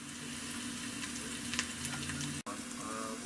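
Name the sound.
pork loin searing in a pan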